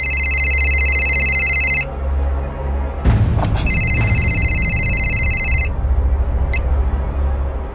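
A telephone rings at night with a repeated electronic bell tone in two long bursts separated by a pause, loud and close, over a low steady hum.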